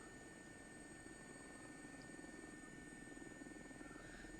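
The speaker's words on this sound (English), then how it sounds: "This involves crossing the water in a single engine helicopter." A single-engine helicopter drones continuously at a steady level, with a constant low rotor throb and mechanical whine, heard from close up inside the aircraft during a flight over water in North Wales.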